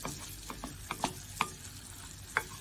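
Vermicelli fries in melted butter in a pan for Lebanese rice, a soft close sizzle under a few sharp scrapes and taps of the spoon stirring it, no voices.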